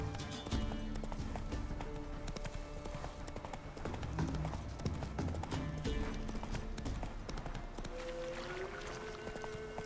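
Roach, a horse in The Witcher 3, gallops in a steady, rapid clip-clop of hooves that runs throughout at moderate loudness over a low background rumble.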